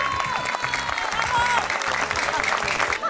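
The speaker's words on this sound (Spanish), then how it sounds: "Un aplauso para todos los zitacuarenses que a lo largo de la historia han formado esta fiesta." A crowd applauds at the opening ceremony of the Feria Monarca fair in Zitácuaro, 2020, with a broad wash of clapping mixed with voices and some tonal sound underneath.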